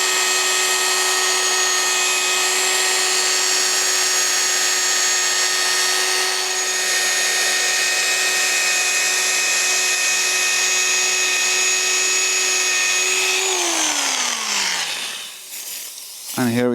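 A power tool whines steadily at close range while brushing and polishing a TVR 3000 M exhaust, holding an even pitch before winding down near the end.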